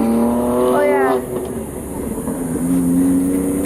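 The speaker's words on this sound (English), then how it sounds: "Car go fast. Car go vroom vroom." At a BMW test-drive event a car speeds up fast, its engine note rising sharply in pitch and then dropping, followed by a second strong rising pass. The engine is loud and close, with some voices in the background.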